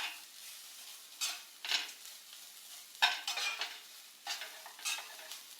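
Grated coconut being dry-roasted for coconut ladoo, stirred in a pan with a spatula that gives several scraping sweeps, one sharp clink of utensil on metal and a faint dry crackle between strokes, heard up close.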